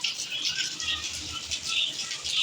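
Heavy stormy rain falls in a steady, dense hiss with pattering texture, continuous and fairly loud throughout with no voices.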